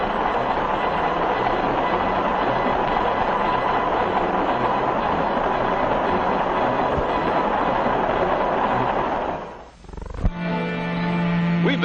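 A mid-1950s train rolling along the rails, a loud continuous rumble and roar of wheels that briefly dips and cuts, then comes back with a rhythmic clatter close by.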